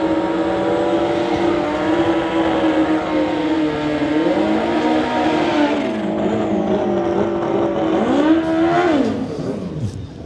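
2005 Suzuki GSX-R 1000 motorcycles at a street legal drag race scream at high revs with a loud, sustained whine that shifts pitch with gear changes, then rises sharply before fading as they pull away.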